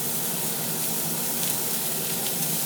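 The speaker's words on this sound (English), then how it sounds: "When you get that sizzle," Loud, steady sizzling of hamburger meat frying in a hot Griswold No. 9 cast iron skillet, a continuous hiss without pause and no talking.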